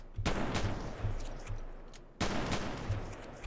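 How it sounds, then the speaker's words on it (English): Two loud shotgun blasts in the game SAMP, each a sharp near crack followed by a rolling decay, spaced about two seconds apart. "Let's use the shotgun to clean it, because shotgun is doing really good work at cleaning everything."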